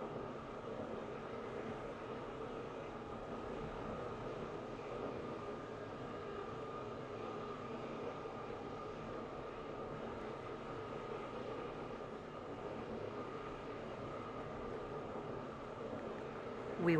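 Steady, faint rumble and broadband noise of a train running in the Roblox game Stepford County Railway on a Stepford Connect service, heard from on board with a constant roar throughout and no talk.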